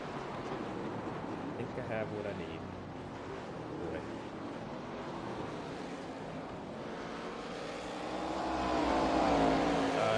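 Race car engines from the iRacing sim roar steadily at Canadian Tire circuit during an AI league race, a continuous loud drone that swells louder toward the end, with talk over it.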